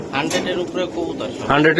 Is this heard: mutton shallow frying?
no